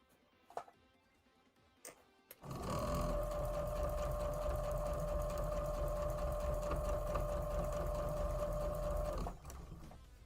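A sewing machine stitching seams hums in a long steady run at a moderate, even pace after a few soft clicks, then stops; the sound is close and continuous, with no talking.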